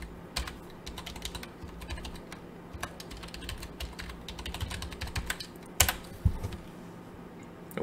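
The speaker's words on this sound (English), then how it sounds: "let me type that thing in" Rapid, close computer keyboard typing as a password is entered, with irregular bursts of clicks and a few louder keystrokes near the end, no voices.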